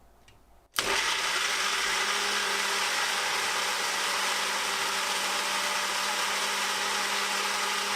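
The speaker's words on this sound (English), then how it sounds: "And just push down to blend." Ninja Fit personal blender whirring through a strawberry mango smoothie with water, a loud steady motor roar that starts abruptly after a short quiet moment and holds constant.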